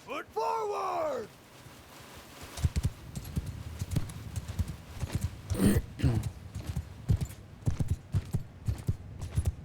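Horses gallop across a battlefield in Mount & Blade II Bannerlord, with rapid irregular hoofbeats thudding near and far. A shouted command is heard at the start, and a louder burst of hooves and clatter comes midway.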